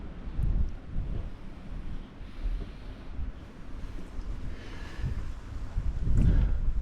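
Wind rumbles and buffets against the microphone in uneven low gusts throughout, swelling louder toward the end.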